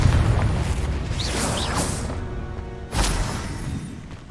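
A Confringo fire spell detonating in the game Hogwarts Legacy, a single loud boom with a whooshing burst that decays over a few seconds, followed by a second softer blast near the end.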